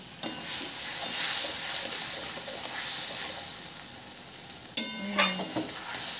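A paste frying in a pan with salt, turmeric and green chili gives a soft steady sizzle close by, with a sharper burst of crackling and a clatter near the end.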